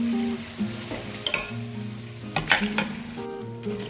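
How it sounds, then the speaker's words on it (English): King prawns sizzle in a pan with onions and spices, stirred with a few scraping clinks of the utensil against the pot under a steady frying hiss. "I'm going to put the prawns in."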